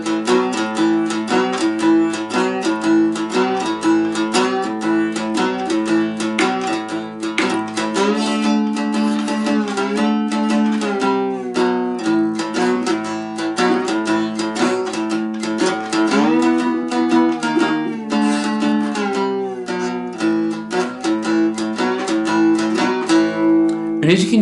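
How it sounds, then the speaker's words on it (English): A two-string cigar box guitar plays a twelve bar blues with steady strummed upstrokes and downstrokes in a driving, even rhythm, close and loud throughout with no talking. "So that 12 bar blues, like I said, can now sound like this."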